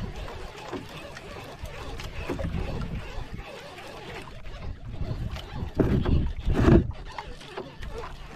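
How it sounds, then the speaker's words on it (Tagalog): A small fishing boat out on the water on a handline fishing trip, its engine thumping and chugging in rough bursts under wind and splashing, louder toward the end, with voices talking faintly at times. "tapos magpandar na makina,"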